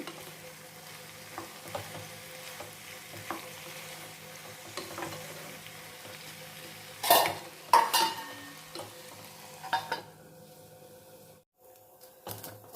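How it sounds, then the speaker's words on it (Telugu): Snake gourd curry being stirred in a pot, with scraping spoon and pot clatter over a steady low sizzle; a few louder knocks come near the middle, then a brief quiet gap before more clinks. "మధ్య మధ్యలో ఇలా కలిగంటూ ఉండండి లేకపోతే అడుగంటు పోయిద్ది"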